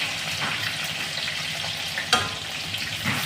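Tomatoes fry in a pan for a jackfruit curry, giving a dense, steady, close-up sizzle throughout, with one brief sharp crackle midway.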